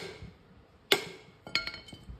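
A bearing cap being hammered back onto a reciprocating piston water pump: one sharp, ringing metallic strike followed by a couple of lighter taps in a quiet workshop.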